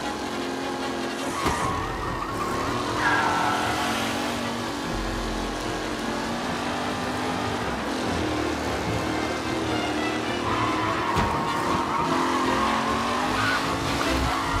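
Race cars roar through a race in the Mafia video game, steady engine drone with rising and falling passes and brief tire squeal, loud and continuous throughout.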